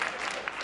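Brief burst of steady applause from a seated audience at a formal dinner, a dense wash of clapping heard at moderate level.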